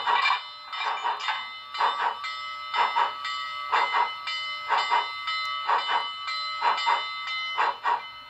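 An HO-scale model locomotive bell, from a sound decoder in a Big Boy #4014 model, clangs about nine times at an even, roughly once-per-second pace, each ring bright and close, with nothing else heard.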